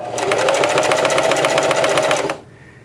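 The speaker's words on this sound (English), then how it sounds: "I'm going to do about 10 stitches using my foot pedal" A sewing machine driven by a foot pedal stitches thick fabric in a fast, even run of rapid needle clatter with a motor hum, loud and close, stopping abruptly after about two seconds.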